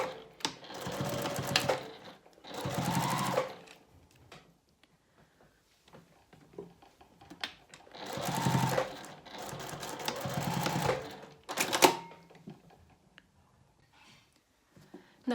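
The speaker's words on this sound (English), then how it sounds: "I'll stitch using 1/8 inch seam allowance." A sewing machine stitches a fabric face mask at a 1/8 inch seam allowance, running in several steady whirring bursts of a second or two, separated by quiet pauses.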